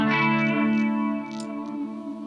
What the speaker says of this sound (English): Now you can hear the chorus